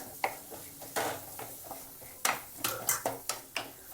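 Onions and curry leaves are stirred for curd rice in a pan still hot from a switched-off stove. A spoon scrapes and taps against the metal in close, quiet, irregular clicks, with no clear sizzle.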